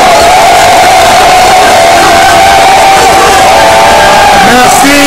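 A large political opposition rally crowd in Kinshasa roars and cheers continuously at close range, a dense wall of shouting and whooping voices with sustained tonal calls riding over the noise.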